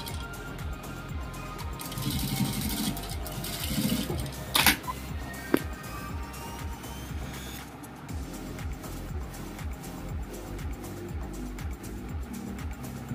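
Sewing machine stitching fabric for a latkan tassel, an uneven mechanical whirring and clatter that runs in bursts with a couple of sharp clicks, close and moderately loud.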